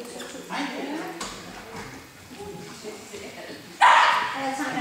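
A dog barks during an outdoor training session, with short barks and a sharper, louder bark near the end while a person talks throughout.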